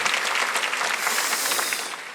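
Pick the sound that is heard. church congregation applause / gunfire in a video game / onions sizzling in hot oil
church congregation applause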